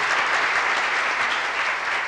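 Dense, steady audience applause fills a concert hall during a tribute show, many hands clapping evenly at moderate loudness with no voices rising above it.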